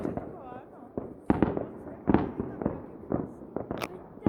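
Loud New Year's fireworks burst in repeated sharp bangs and crackles, with several heavy booms spread across the stretch, while people talk and exclaim excitedly over them.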